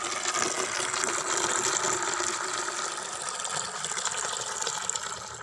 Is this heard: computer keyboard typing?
no